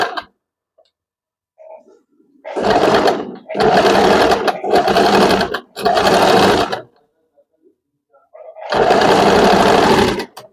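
A sewing machine stitches a tuck in fabric, running in four quick close bursts separated by short pauses, then one more burst after a longer gap, each run loud and steady.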